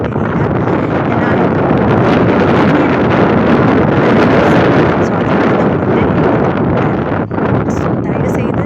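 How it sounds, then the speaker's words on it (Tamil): Loud, continuous wind buffets the microphone in a dense roar at Manapad Beach, with a faint rush of surf beneath, steady for the whole stretch. "ரொம்ப நல்லா காற்றடிக்குது."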